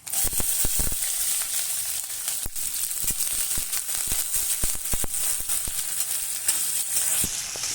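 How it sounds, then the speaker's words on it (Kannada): Chopped onions and green chilies frying in hot oil, a loud continuous sizzle close up, peppered throughout with sharp popping crackles and spatters, with no talk. "ಈಗ ನಾನು ಹೆಚ್ಚಿರುವಂಥ ಈರುಳ್ಳಿ ಹಸಿಮೆಣಸಿನ ಸೇರಿಸ್ಕೊತಾ ಇದ್ದೀನಿ."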